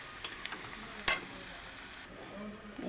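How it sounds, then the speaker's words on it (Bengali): Onion, peas and green chili fry in a pan with a soft steady sizzle, broken by a few sharp scraping clicks of a spoon stirring. "পেঁয়াজ দিয়ে, মটর দিয়ে আর কাঁচা লঙ্কা দিয়ে ভাজছি।"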